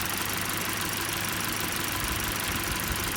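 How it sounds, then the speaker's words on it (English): The engine of a 2021 Toyota Corolla runs with the coolant cap off, giving a steady, close idle hum with a constant even rumble and no variation. "start up the engine with the cap off"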